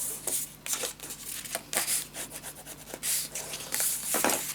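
Scored craft paper for a mini scrapbook album is folded and creased by hand, giving a series of close, soft rubbing and brushing strokes with short pauses between them.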